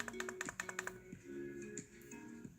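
A computer mouse clicks on a frozen computer: a quick run of sharp clicks in the first second, then sparser taps over a steady electronic hum.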